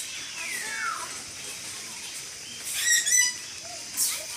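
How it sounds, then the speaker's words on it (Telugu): A chattering lory calls in the bird area of a zoo, giving a few sharp, bright chirps and squeaky notes over faint background ambience. "ఇది వచ్చి చాటరింగ్ లోరీ"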